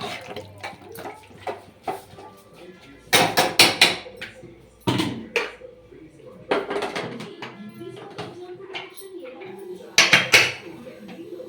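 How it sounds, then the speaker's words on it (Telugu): A pressure cooker lid is set down and closed over a pot of broad bean curry with water, giving several sharp metallic clanks and knocks among quieter kitchen clatter while people talk. "విజిల్ పెడతావా అట్లా ఇంకా మూత పెట్టేస్తాం"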